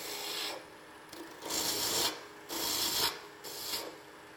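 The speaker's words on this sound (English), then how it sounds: "So this is what we call spindle turning." A wooden door stop spins between centers on a spindle-turning lathe while a tool rasps against the workpiece in four rhythmic passes, each a bright, scraping hiss that swells and then cuts off, close and fairly loud.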